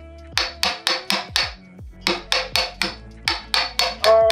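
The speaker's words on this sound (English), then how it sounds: "Dollar store chisel." Dollar store chisel struck by a hammer at a barn build, about fifteen sharp metallic blows in quick bursts of four or five, each ringing briefly, close and loud with a short pause between groups.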